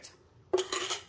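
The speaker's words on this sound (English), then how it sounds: "Put the lid on there." A plastic lid pressed onto a salsa container, one quick close clack followed by a brief rattling snap as it settles, alone and faint.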